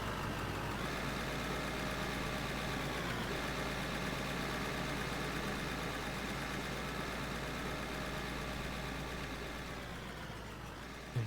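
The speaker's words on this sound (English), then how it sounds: "can you not hear the engine noise?" A video game truck engine drones steadily, a constant low mechanical hum that barely changes and fades slightly near the end.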